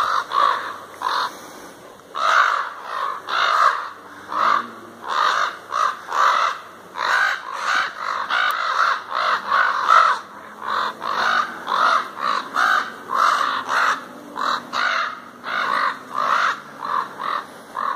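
A large group of crows caws loudly and persistently, with harsh overlapping calls in a steady rhythm that runs without a break.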